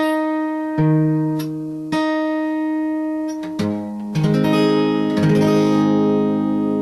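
Guitar strings plucked and left to ring, one note then another, with a pitch adjusted partway through toward open D tuning and a strummed chord at the end. Close, with no voices.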